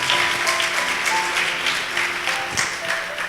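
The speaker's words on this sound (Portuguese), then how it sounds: "Aplauda o Senhor Jesus, aleluia." A church congregation applauds together, a dense, steady wash of clapping that fills the whole stretch at moderate volume, with faint sustained tones running underneath.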